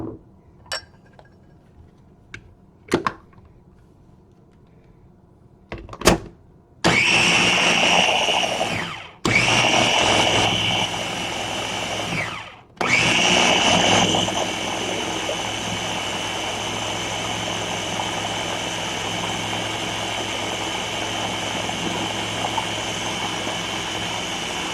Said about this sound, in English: This Ninja is new to me. Usually I just use a blender.